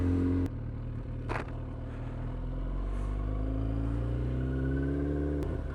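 A truck drives close by on a road through open Dutch countryside, its engine a steady low rumble that holds throughout, with a couple of brief scraping clicks.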